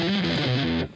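A fast run of notes on an Ibanez electric guitar through heavy distortion, a loud, buzzing stream of rapidly changing pitches that stops abruptly after about a second.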